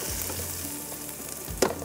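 Rice frying in a cooking pot with stock gives a steady sizzle, and a sharp clink of a utensil comes near the end. No one talks.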